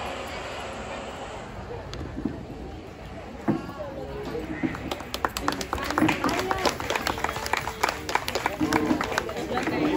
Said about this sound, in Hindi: तालियों से हम का स्वागत करते हैं अंजलि मैम का।